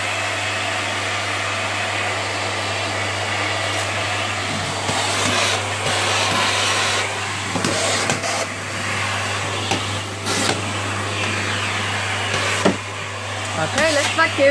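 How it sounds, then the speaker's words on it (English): A household vacuum cleaner runs in a home in the morning, a steady loud motor drone with a low hum, and its pitch and level shift as it is pushed around, with brief bumps and knocks. "let's vacuum."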